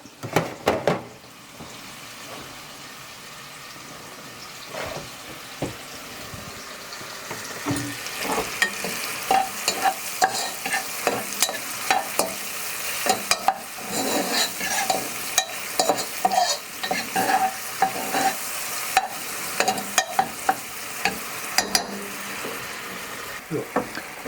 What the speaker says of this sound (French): On les fait saisir.